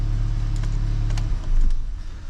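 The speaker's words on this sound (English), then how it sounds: "the car's idling just like as it should" A cold Audi S3 8V engine idles just above 1000 RPM, a steady low rumble with a brief swell near the end and faint clicks over it.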